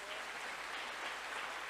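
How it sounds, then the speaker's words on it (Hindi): Applause from an audience at a network marketing meeting, a steady, dense clapping wash lasting the whole moment without any voices on top. "एक जोरदार ताली होनी चाहिए"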